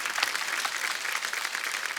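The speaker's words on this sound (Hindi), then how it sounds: "एक बार जोरदार तालियां रवि भैया और मनोज भैया के लिए।" Studio audience on The Kapil Sharma Show breaks into enthusiastic applause, a bright, steady burst of many clapping hands at moderate loudness with no talking.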